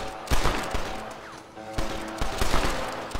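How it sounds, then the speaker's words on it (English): Bursts of gunfire from enemies in Red Dead Redemption crack out repeatedly, loud, close shots clustering in rapid volleys with short gaps between them. "They're shooting literally blindly."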